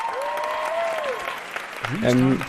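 Applause rises and falls through a short stretch, with sustained tonal voice-like lines over it and a burst of pitched sound near the end.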